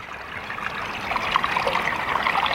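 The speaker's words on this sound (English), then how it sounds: "We've got water flowing through nicely." Water trickles and splashes steadily through a newly built pond bog filter, a close continuous babbling flow that grows slightly louder, with no voices.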